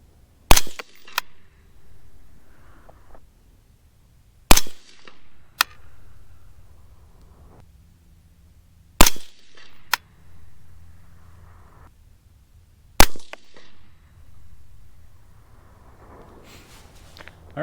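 Four sharp, loud gunshots from a .223 Remington gas rifle firing 53-grain V-Max loads with H322 powder, spaced about four seconds apart, each followed by a brief echo and mechanical clatter.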